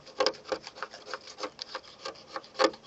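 Peeling clear coat flakes on a car's paint being rubbed off by hand, a close, rhythmic series of scratchy back-and-forth strokes, about a dozen in quick succession.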